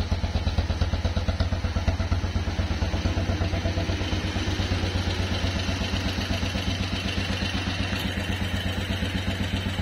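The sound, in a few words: vintage BMW motorcycle exhaust idling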